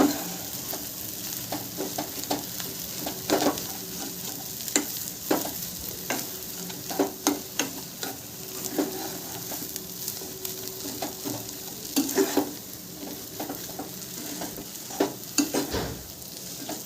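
Potato paratha filling being stirred with a spoon in a pan after salt is added, with repeated scraping clinks and a faint sizzle running steadily underneath, close and fairly quiet with no talk.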